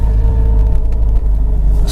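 A car's engine under way with a clutch and short-throw shifter fitted, a loud, steady low rumble and drone filling the cabin, no speech.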